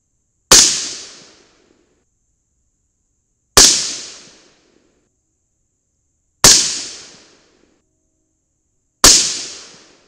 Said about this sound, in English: All right, four more shots.